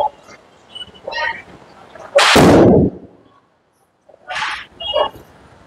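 Diwali firecracker bomb going off outdoors, a single loud burst lasting under a second, with birds or dogs calling faintly before and after.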